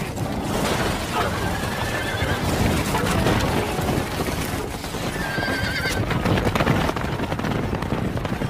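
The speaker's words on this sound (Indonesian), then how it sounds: "mereka berdua kabur dengan sebuah andong dan kejar-kejaran pun terjadi antara" A horse-drawn andong cart races in a film chase: loud galloping hooves clatter continuously, a horse whinnies, and mechanical rattling fills the scene.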